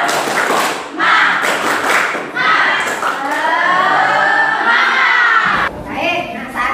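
A group of children in an Indonesian classroom session loudly performs a rhythmic clapping chant, with shouting and cheering mixed with claps and thumps, close and energetic throughout.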